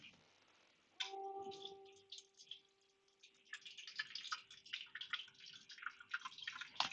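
An ice machine starts with a click and steady hum, then water trickles and splashes as it fills, fairly quiet and close, with no voices.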